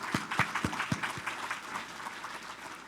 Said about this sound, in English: I wish to give those here applause